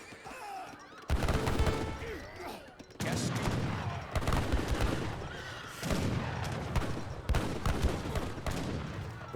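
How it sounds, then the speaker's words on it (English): Janissaries fire their guns in an Age of Empires 3 battle, with dense, overlapping volleys of gunfire that roll on almost without pause and horse whinnies mixed into the loud clamour. "Janissaries are firing away as well."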